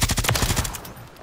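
Rapid automatic fire from an LMG, the Bruen MK9, in Call of Duty, a fast burst of about ten sharp close shots that stops abruptly and fades into a short tail.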